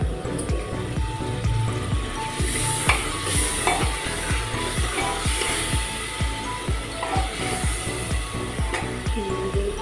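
Vegetables for a home-cooked Punjabi meal fry in a pan with a constant close sizzle, while a spoon stirs and scrapes in a quick, regular rhythm throughout; no talking is heard.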